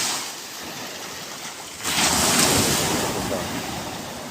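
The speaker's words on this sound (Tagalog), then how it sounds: "Tahimik naman ang dagat." Sea waves wash in at a shoreline where an old man fishes with a net, a continuous windy surf hiss that swells louder midway, with faint wind buffeting the microphone.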